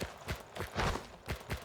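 Horse hooves clip-clopping at night in the video game Weird West: a handful of distinct, evenly spaced thuds close by with no talk over them.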